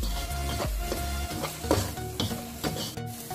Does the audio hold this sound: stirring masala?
yes